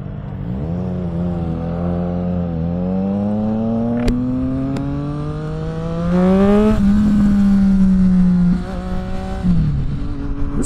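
A Triumph Street Triple RS 765cc three-cylinder motorcycle accelerating hard, its engine note climbing steadily through the gears with brief dips at each shift, loud and close throughout.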